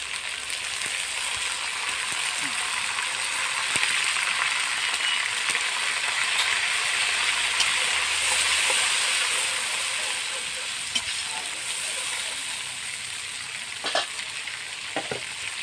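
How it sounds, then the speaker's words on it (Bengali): Water hits a hot pot of chicken curry with taro and sets off a loud, steady sizzling hiss that bubbles on for several seconds, with a few faint clinks near the end. "এর ভিতরে আমি একটু জল দিয়ে এর ভিতরে দিয়ে দেবো।"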